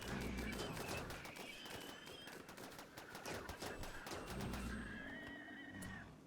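In the RimWorld video game, bursts of rapid gunfire hit animals, with sharp repeated shots over loud horse-like whinnies and animal cries.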